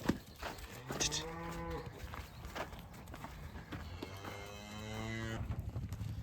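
Cattle moo on a ranch in two long, drawn-out bellowing calls, fairly close, with hoofbeats and shuffling movement underneath and the open-air hiss of the outdoors.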